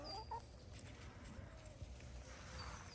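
Backyard chickens, with a rooster giving soft clucks amid hens, faint and somewhat distant, with a few short calls over low rumbling background noise.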